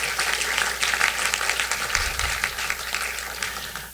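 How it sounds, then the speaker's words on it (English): Audience applause at the St. Francis College Charter Day 2015 ceremony, a steady wash of many hands clapping for the full stretch, moderately loud and continuous without any voices on top. "You can clap about that."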